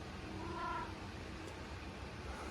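A cat gives a couple of soft, brief meows in a quiet indoor room, faint and alone with no talking.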